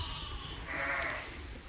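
Sheep bleating inside barns on a sheep farm during breeding season, a couple of wavering calls rising over a constant low barn murmur.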